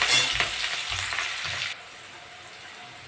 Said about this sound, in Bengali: একটু ভেজে নেবো পেঁয়াজটা।